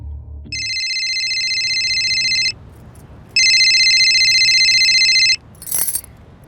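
Incoming call ringtone on a phone in a tense crime drama scene: two long electronic ringing bursts, loud and close, separated by a short pause, with a brief clink at the end and no speech.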